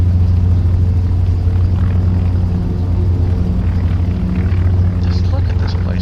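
A Hughes H-1B racing airplane in a flight simulator gives a steady, loud propeller-engine drone that holds evenly throughout, with a continuous low rumble and no break.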